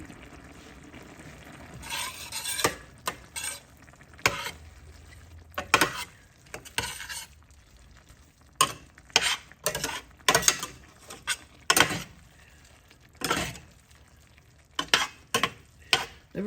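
Chopped garden jalapeno cooks in a frying pan, with a soft sizzle under repeated scraping and clattering stirs of a utensil against the pan in irregular bursts.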